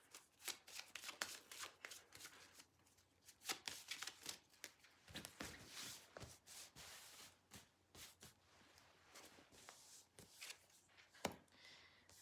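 Tarot cards are shuffled close up in a quiet room, a continuous series of soft riffling flicks and papery slaps in irregular bursts, with no talking.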